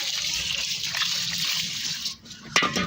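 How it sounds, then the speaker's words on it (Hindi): Moong dal being washed by hand in water, a steady close splashing and swishing that runs for about two seconds, dips briefly, then ends in a sharp splash. "इसको सिर्फ हाथ नहीं लगाना, ऐसे धोना"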